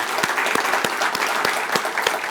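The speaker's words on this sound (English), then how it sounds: "can we give Colin a big round of applause?" A chamber of commerce luncheon crowd gives a round of applause for Colin, a lively, sustained patter of many hands clapping close and loud, with distinct sharp claps standing out and no speech over it.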